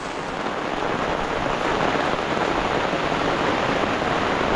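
Heavy rain pours down steadily and loud, a dense unbroken hiss with no pauses and no voices.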